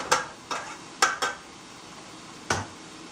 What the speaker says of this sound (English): just going to stir this around until you can smell the garlic